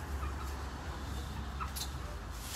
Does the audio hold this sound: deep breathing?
no